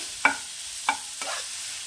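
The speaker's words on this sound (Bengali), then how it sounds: "এখানে মাংসটা পুরোটাই ভাজা ভাজা হয়ে গেছে" Pieces of chicken being stir-fried in a pan with Kashmiri red chili powder: three separate scraping stirs, close by and fairly quiet, over a faint background sizzle, with no talking.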